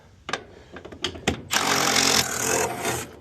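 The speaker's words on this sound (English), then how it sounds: "And then we'll bolt it down with the socket set." A ratcheting socket set bolts down HVAC wall mount brackets: a string of sharp metallic clicks and knocks, then a loud, continuous grinding whir of a powered driver close by.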